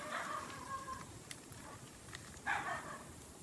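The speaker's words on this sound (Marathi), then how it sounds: "कुत्री भुकतान" Dogs barking outdoors near an old family house in a village by the forest, a few faint, distant barks breaking through steady background noise.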